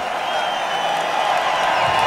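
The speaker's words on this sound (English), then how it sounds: "And listen to the crowd." Crowd cheering and applauding at a dramatic, wild finish of the 2010 NAPA Autopro 100 stock car race in Montreal, a sustained roar from the grandstands, steady and loud with no break.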